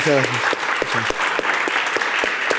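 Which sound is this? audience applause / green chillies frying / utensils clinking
audience applause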